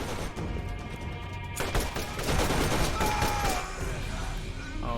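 Gunfire in the video game Borderlands crackles in continuous rapid volleys during a turret fight, dense and busy throughout with other game effects layered in.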